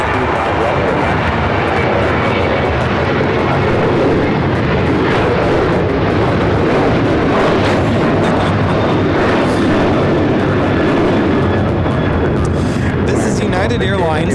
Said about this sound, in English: This is United 737. Launches off to 5 right.